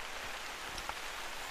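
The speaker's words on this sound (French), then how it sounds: "Alors, évidemment, il pleut, hein, parce que sinon, c'est pas rigolo." Rain falling in the hunting video game theHunter: Call of the Wild, a steady soft hiss of drops without talk.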